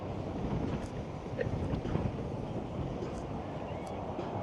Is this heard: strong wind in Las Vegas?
yes